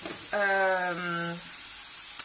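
Bacon lardons hit a hot pan with a constant bright sizzling hiss, close by, while a brief voice sounds partway through.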